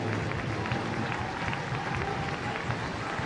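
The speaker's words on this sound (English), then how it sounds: "Fans will get the chance to applaud the team as they skate around the arena" Ice hockey fans at IceSheffield applaud the Braehead Clan team as they skate around the arena, a loud, unbroken wash of clapping and crowd roar filling the rink.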